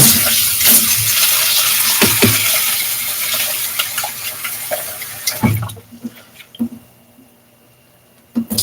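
Running water splashes and swishes as rice grains are rinsed, swirled and stirred, followed by quieter clicks and scrapes as the flow stops.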